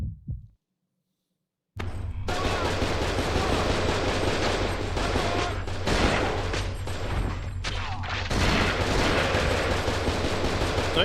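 Sustained, loud gunfire from the Cold Fear survival horror video game, a dense rapid burst starting after a brief near-silent pause and continuing throughout, with sharper shots punctuating the steady roar.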